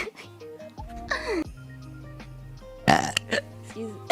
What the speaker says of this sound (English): I need a burp again.